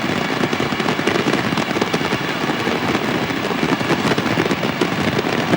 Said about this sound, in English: A firecracker welcome.